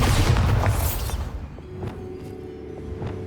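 Bombarda spell explosion in Hogwarts Legacy, a single loud booming blast that rumbles and decays over a second, followed by a few faint scattered debris clicks.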